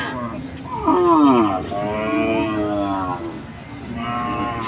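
Cattle at a Bangladeshi cattle market low in long, drawn-out moos, loud and close, one call after another over a busy crowd background, with a voice briefly audible.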